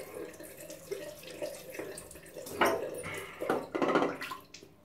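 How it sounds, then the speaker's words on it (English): Water runs and splashes while shaving lather is rinsed off, with irregular bursts of flow and dripping close by, louder surges near the end. "Rinse that off well now."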